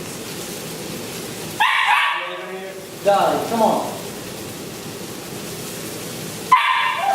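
Dogs bark, yip and whine excitedly in short bursts close by, while someone talks between the outbursts.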